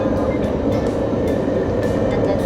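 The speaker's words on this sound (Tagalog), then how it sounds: "So, yeah, sasakay na kami ng MRT." Riding inside a crowded MRT metro train gives a loud, constant rumble and rattle throughout, with faint clicks and squeaks over the steady roar and no pauses.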